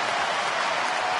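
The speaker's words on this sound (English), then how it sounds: "This crowd welcomes him to the game in a very big way." Baseball crowd at a Houston at Philadelphia game roaring and clapping to greet pinch hitter Ryan, a dense, loud, continuous stadium cheer.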